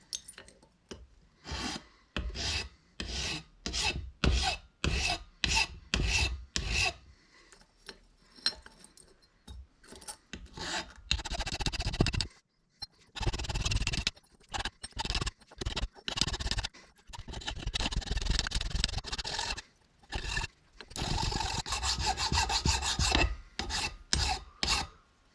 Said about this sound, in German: Eine schöne feine Feile, schlicht Feile, und damit feile ich das jetzt entsprechend weg.